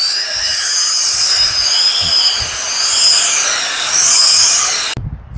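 A cordless leaf blower with a tilting head runs at its highest of three speeds, a loud steady high-pitched whine and rushing air that wavers slightly, close by, cutting off abruptly near the end with no talking.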